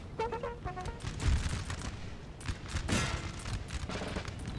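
Musket volleys from line infantry in the Napoleon Total War battle game, with a ragged crackle of overlapping shots, distant booms and a dense battle roar throughout, moderately loud and continuous.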